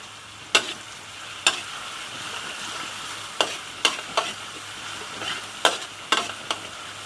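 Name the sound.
lemongrass and spices stir-fried for pork rendang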